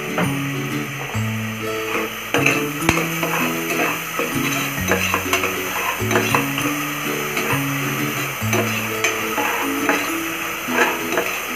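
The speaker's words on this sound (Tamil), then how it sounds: "வெங்காயம் வந்து கொஞ்சம் அதிகமாகவே ஃப்ரை ஆகணும்." Onions fry in a pan over high flame with salt added, stirred for a mushroom biryani; a soft, steady sizzle and occasional scraping sit under louder background music.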